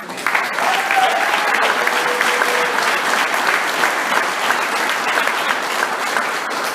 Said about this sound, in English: So I'm going to lead another round of applause.